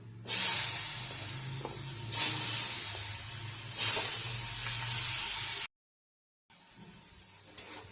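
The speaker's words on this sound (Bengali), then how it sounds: "তারপরে দিয়ে দেবো আলু" Potatoes sizzling and spitting in hot oil tempered with whole cumin, a dried red chili and a bay leaf, a loud steady fry with stirring swells, briefly cut to silence before resuming.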